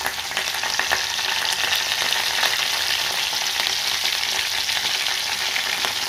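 Sliced bitter gourd frying in hot oil with cumin, mustard seeds and dried chillies, giving a steady close sizzle that holds even throughout with no talking.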